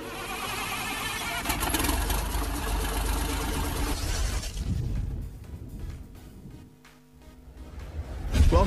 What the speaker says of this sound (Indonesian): Sebelumnya kita start dulu mesinnya